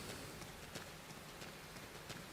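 Rain falls steadily in the video game Xenoblade Chronicles X, a soft, dense, even hiss with scattered pattering drops, faint and continuous throughout with no voices.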